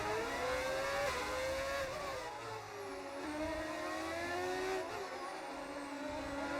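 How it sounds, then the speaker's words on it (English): V8 racing engines in an F1 video game on the Azerbaijan circuit roar continuously, their pitch climbing and falling through gear changes, with faint tire noise; steady and fairly quiet, no talking. "Hearing these V8s roaring through castles is awesome."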